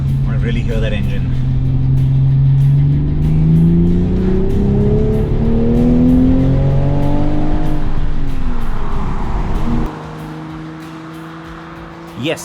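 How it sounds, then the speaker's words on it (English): A Toyota GR Supra coupe's engine revs and climbs through the gears, a loud, close drone that rises steadily in pitch, drops back, then cuts to a quieter idle near the end. "I want to really hear that engine."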